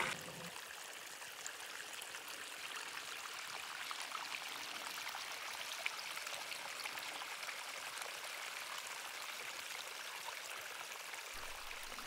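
Water draining from a rural supply tank through a hose running downhill, a steady, faint trickling gush that holds even and continuous, with no voices over it.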